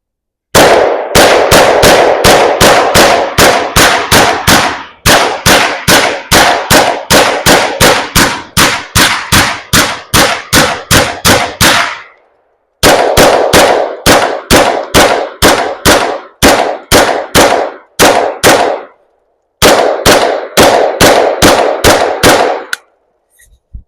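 An R50 firing 5.7x28 rounds at pumpkins outdoors lets off very loud, close, rapid shots in three long strings, each broken by a short silence.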